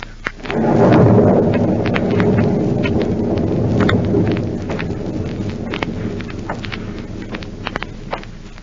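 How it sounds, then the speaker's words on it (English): Thunder rumbles loudly and swells, then fades beneath steady heavy rain and wind, with sharp drips and crackles scattered throughout, a stormy-night sound effect for a 1949 radio drama set at an old house in Illinois. "An eerie, stormy night at the former hideout of Professor Horn in Illinois"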